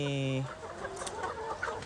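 A bulik gamefowl hen gives a few soft, close clucks, with a brief steady tonal call at the start and quieter rustling and background noise after.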